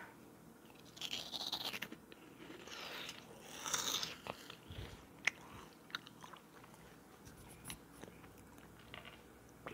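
Potato chips crunched and chewed close to the mic in irregular bursts, with soft bites and rustles between quieter pauses.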